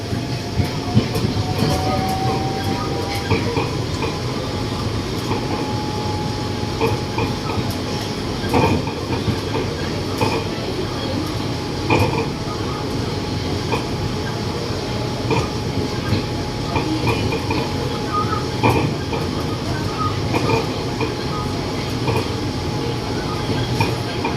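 Steady interior ride noise on the Bangkok MRT Pink Line monorail between Min Buri and Wong Waen-Ramindra stations: a constant rumbling hiss with faint rhythmic clatters and occasional thumps, continuous and fairly loud for the whole stretch.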